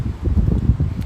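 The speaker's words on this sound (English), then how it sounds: "as you can see, it's pretty windy" Gusty wind buffets the microphone with low, rumbling bursts, loud and close, on a rainy night street in Setagaya, Tokyo.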